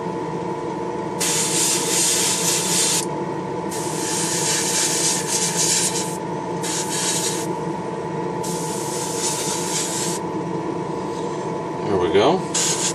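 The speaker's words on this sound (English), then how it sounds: "It seems to be spraying okay." An airbrush sprays Tamiya paint thinned with alcohol onto a Honda model part in several long hissing bursts separated by short pauses, heard close over a steady background hum, with a brief rustle near the end.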